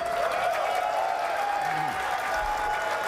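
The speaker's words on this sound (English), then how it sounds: "Applause." Crowd at the NFL Draft applauding in a large hall, a steady broad clapping wash under a faint sustained tone, with a brief low murmur near the end.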